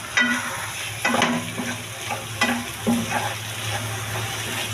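Boiled taro stolons and hilsa fish heads are mixed in a sizzling pan, with repeated clanks and scrapes of a spoon against the metal over a steady frying hiss; close and moderately loud, with no speech.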